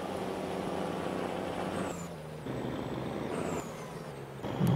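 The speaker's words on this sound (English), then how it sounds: "The truck sounds good when it's angry." Truck engine in the Farming Simulator 22 video game, droning steadily at a low pitch with slight shifts in tone and a short higher rev toward the end, loud and continuous.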